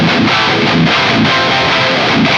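Dry rhythm electric guitar through a Fractal amp modeler, a dense, steady distorted tone with chugging low-end accents repeating across the passage, loud and alone without talk.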